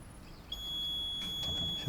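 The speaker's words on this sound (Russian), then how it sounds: "он пищит и выдаст мне чек" A single high electronic beep rings out and holds steadily from a payment machine before it prints a receipt, with faint rustling and soft clicks beneath it.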